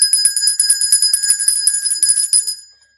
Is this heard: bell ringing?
yes